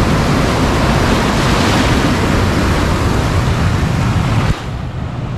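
Big ocean waves break at a rocky Tobago surf spot, a loud, continuous roar of crashing surf that drops off abruptly near the end.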